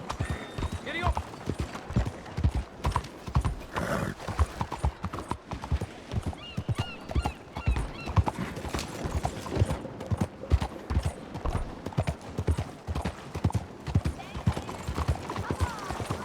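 A horse gallops in Red Dead Redemption 2, its rapid hoofbeats pounding close and steady throughout, with occasional whinnies and a voice urging it on.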